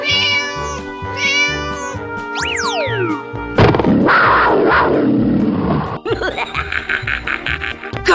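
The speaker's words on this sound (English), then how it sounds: "cat," A cat meow effect from a 3D animal slide video game plays loudly, followed by a springy boing, a noisy rush and a string of quick, chattering game sounds.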